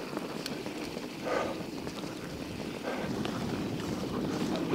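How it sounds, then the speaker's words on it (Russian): Steady wind rushes and buffets the microphone during a bicycle ride on a hot May day near a dirt road, a continuous broad roar with slight surges and no voices. "О, ветер, блин."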